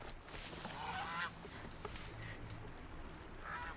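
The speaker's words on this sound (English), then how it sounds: "It was a bird." Bird in the game Horizon Zero Dawn gives a couple of honking, goose-like calls over a noisy ambient game soundscape, moderately faint.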